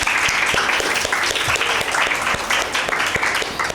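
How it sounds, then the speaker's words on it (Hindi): Enthusiastic applause from an audience at a children's Mother's Day quiz show, a dense steady wash of many hands clapping at constant loudness throughout, with no talking over it. "मीरब बोलने के लिए ज़ोरदार ताली"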